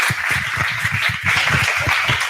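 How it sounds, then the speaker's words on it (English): An audience at a product leadership talk claps for the speaker in a short, loud round of applause, with dense hand claps and a deep thumping pulse underneath. "Please give her a warm round of applause."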